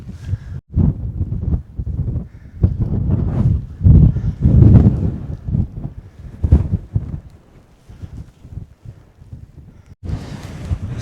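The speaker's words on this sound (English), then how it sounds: "This snow is coming down pretty heavy, pretty windy." Strong wind buffets the microphone on an exposed snowy ridge above a choppy Grisedale Tarn during heavy snowfall, gusting in loud, rough surges that rise and fall with brief lulls.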